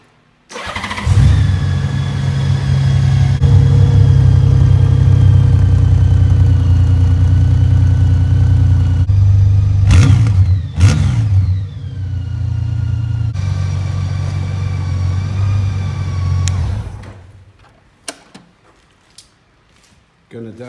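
A 2012 Honda Goldwing motorcycle fitted with a Two Brothers Racing Comp S exhaust starts up and runs with a deep, loud idle, blipping the throttle in a couple of sharp revs before shutting off, followed by quiet clicks.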